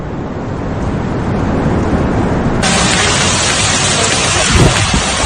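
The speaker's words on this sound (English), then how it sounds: "Water bomb in Borgo Sigia, in the Piedmont region, in the province of Vercelli, flooded streets and hail." Heavy rain and hail in a thunderstorm pour down over flooded streets in Piedmont, Italy, as a loud, constant roar that thickens midway, with a low rumble near the end.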